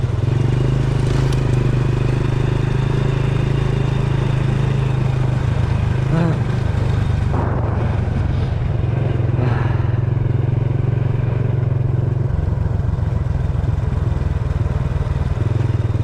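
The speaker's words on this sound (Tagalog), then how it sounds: "Nakakamiss yung ganitong ride ng motor" A motorcycle engine drones steadily and close for the whole ride through the countryside on a cold morning, with wind rush and occasional rattles and scrapes over the hum.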